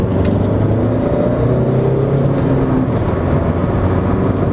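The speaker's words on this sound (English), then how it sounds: "let's drop it down into a second. Let's do a little pull." An Audi A1 accelerating hard in second gear, its engine a loud, steady, droning roar heard from inside the car, holding a constant pull with no speech.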